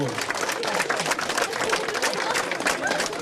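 Applause from an audience at a Ukrainian folk group's stage performance, a dense, steady clatter of many hands clapping with crowd chatter and voices underneath.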